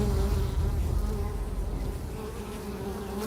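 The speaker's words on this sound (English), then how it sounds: "the longer we take, the more likely we are to aggravate the bees and potentially cause a swarm" Dense buzzing of many bees swarming around a wild hive being cut open during honey gathering in the forest, a loud, continuous drone close by with no speech.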